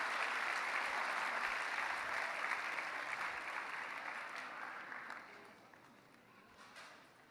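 Audience applause at an Indian cultural event of a Gujarati community in Paris, a dense sustained roar of clapping that gradually fades toward the end.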